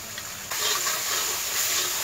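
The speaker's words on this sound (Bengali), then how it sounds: "মশলাটা কষিয়ে নিচ্ছি।" Spice paste for a duck egg dish sautéing in a pan, a steady broad sizzling hiss that jumps louder halfway through and then holds evenly, close by with no talk.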